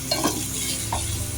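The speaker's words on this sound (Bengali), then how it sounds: "এই পেঁয়াজটার সাথে পেঁয়াজ ভুনার সাথে মাংসটাকে আমরা ভুনে ফেলবো" Yogurt-marinated meat frying with browned onions for Shahi Rezala makes a brief close sizzle, with a couple of quick stirring scrapes at the start.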